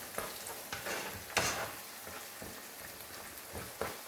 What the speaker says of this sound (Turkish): Şöyle bir çevireceğim salçamı koyduktan sonra